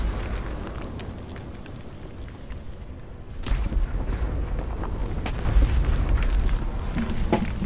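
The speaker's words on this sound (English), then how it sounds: "The artillery just bounced my gun upwards." Artillery fire in War Thunder hitting an AMX tank, heavy booming impacts over a continuous rumbling battlefield din, growing louder and denser partway through.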